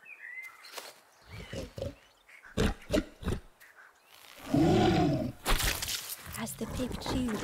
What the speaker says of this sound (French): Tandis que le cochon mâchait